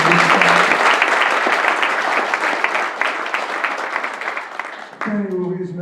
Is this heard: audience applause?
yes